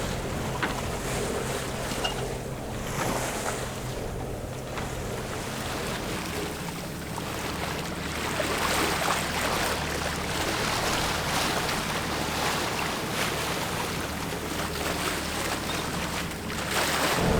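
A sailboat motors slowly into a marina quarantine area, with a steady low engine drone beneath constant wind buffeting and the wash of water against the hull, no voices.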